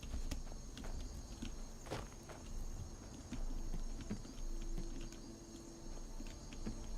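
A horse fighting in a video game, with soft repeated hoof-like thuds and scuffling clops against a faint steady background hum, fairly quiet and irregular, with no speech.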